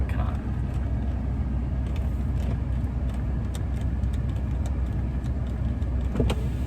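The power window motor on a BMW E53 X5 runs with a close, steady electric whir over the cabin's background hum, continuous for several seconds.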